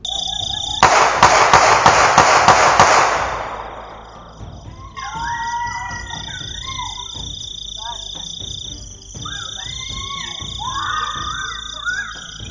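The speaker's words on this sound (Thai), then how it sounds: "เสียงปืน7นัดค่ะ" Seven rapid gunshots from a shooting at a newly built house around 3:51 at night, captured by a CCTV camera, crack out in quick succession, loud and sharp, followed by a quieter night backdrop of chirping insects or frogs.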